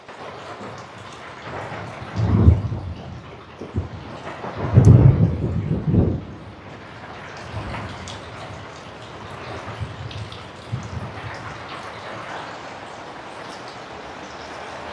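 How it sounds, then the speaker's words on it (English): A thunderstorm rumbles in the distance, with two heavy rolls of thunder swelling and fading over steady rain hiss, then softer grumbles continuing under the rainfall, with no one talking. "First week of March, and we're already getting thunderstorms."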